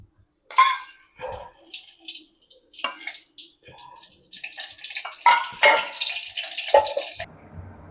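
Oil is poured into a heated clay pot, making bursts of splashing, hissing liquid sound separated by short silences, up close.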